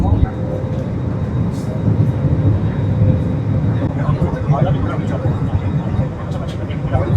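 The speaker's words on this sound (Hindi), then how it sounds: "और ये रनवे पे स्टार्ट होगी फ़्लाइट" Passenger airliner beginning its takeoff run at the newly opened Noida International Airport, heard from inside the cabin as a steady, loud low engine rumble and roar that holds throughout.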